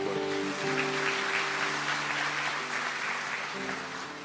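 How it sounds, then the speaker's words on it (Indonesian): A church congregation applauds during a sermon with a broad wash of steady clapping, a held organ or keyboard chord sounding underneath and slowly fading. "Yang percaya kasih tepuk tangan."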